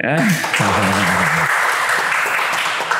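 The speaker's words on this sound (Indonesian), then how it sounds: "Tepuk tangan dulu dong." Audience applause at a talk with a city mayor and a cultural figure in Kediri, a broad clapping wash that follows a brief voice at the start and continues to the end.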